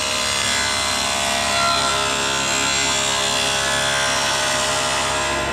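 A table saw rips a board of wood along the fence with a loud, continuous blade whine and cutting roar that holds steady and unbroken throughout.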